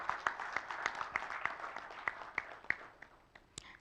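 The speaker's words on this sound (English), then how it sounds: "Can we encourage them again with a big round of applause, please?" An audience at an Indian handloom week launch event in Kuwait applauds steadily, a soft wash of many hands clapping with a few sharper individual claps standing out, moderately distant and alone without talk.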